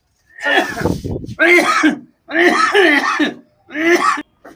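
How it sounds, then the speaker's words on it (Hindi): Repeated loud bouts of harsh coughing and throat clearing close by, in several separate bursts with brief pauses between them. "तखन से खांसी करे छै"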